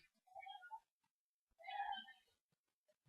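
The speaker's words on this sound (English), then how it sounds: "What you meowing for, cat?" A cat gives two distinct meows close by, a shorter one followed by a longer, louder one, with quiet pauses between them.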